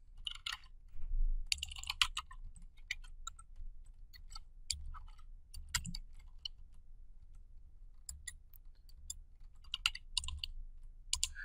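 Typing on a computer keyboard during coding work, quiet scattered bursts of clicking keystrokes heard close-up with no voice over them.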